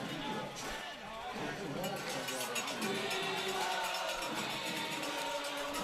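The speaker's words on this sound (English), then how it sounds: "Great crowd, great atmosphere under the lights." A high school football crowd at a varsity stadium under the lights, with a steady distant cheering roar that swells a little as it goes, and a commentator talking over it.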